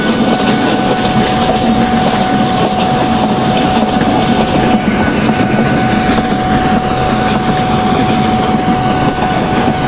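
The Siddheshwar Express rumbles past in the Open Rails train simulator, a loud, unbroken wash of wheel roar and rail noise with a steady hum beneath, close and continuous for the whole span, with no voices.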